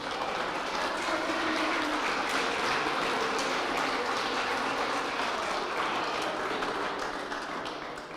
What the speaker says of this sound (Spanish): y con esto un fuerte aplauso